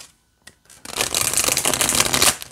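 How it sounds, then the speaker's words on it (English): A brief tap, then a dense, continuous riffle of tarot cards being shuffled up close, crisp and steady for about two seconds. "and this way shuffles really well too."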